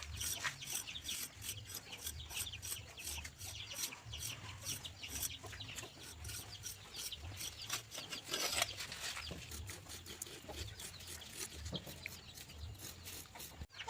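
A hand tool rubs and scrapes across the surface of a cement pot as it begins to set, producing a continuous gritty rasping in steady strokes. Faint chickens cluck in the background.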